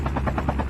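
Helicopter in a video game, a steady near rotor thump with rapid regular blade pulses throughout the short stretch, loud and alone with no talk.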